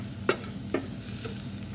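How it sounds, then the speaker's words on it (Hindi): Garlic sautés gently in a pan over a low flame, with a quiet sizzle beneath two distinct scraping stirs of a utensil, close by and with no talking. "इसमें गार्लिक डाल देते हैं। फ्लेम लो पे रखिएगा, इसको सौटे कर लीजिए।"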